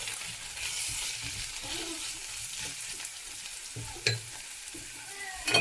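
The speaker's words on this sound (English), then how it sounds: "Then I'm going to add in the potatoes together with the carrots. Okay. Give it a quick stir." Potatoes and carrots stirred in a hot pan for veggie samosa filling, giving a continuous quiet sizzle with occasional spatula scrapes and a couple of sharper knocks, close by and with no speech.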